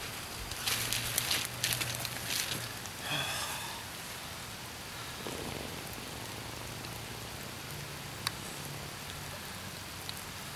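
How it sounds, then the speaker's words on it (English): Steady rain falls across a damp Michigan woodland during a bow deer hunt from a ground blind, making a broad, even patter with a few louder drops and faint rustles, and no voices. "A little cool hunt, raining, good Michigan weather."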